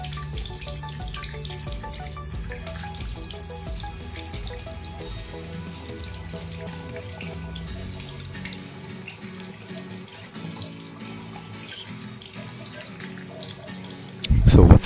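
Water pours steadily onto a Honor X9a 5G phone under a running tap, a continuous close splashing hiss that swells louder at the end.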